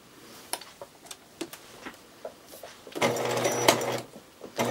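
A sewing machine stitches a fabric-scrap Christmas tree ornament with ribbon at its top: scattered ticks and clicks give way to a loud, steady mechanical whir near the end, close by.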